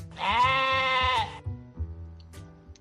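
A goat gives one loud, drawn-out bleat as a sound effect, followed by a quieter stretch of low rhythmic background sound with a couple of faint clicks.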